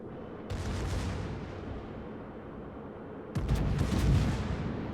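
Warship secondary guns firing in a naval video game, a rolling barrage of booming, rumbling gunfire that swells louder near the end, with no talking.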